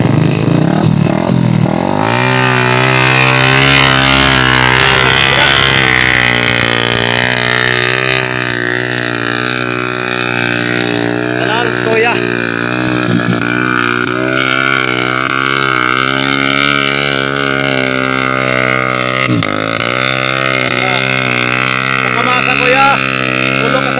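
A motorcycle engine runs loud and close with a steady droning, rumbling tone while hauling sacks of harvested rice, its pitch wavering slightly as it idles and revs.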